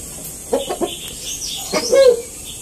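Japanese Shamo brood cock on a farm giving a few short clucks, scattered brief calls with a louder burst near the end, close and alone with no talk.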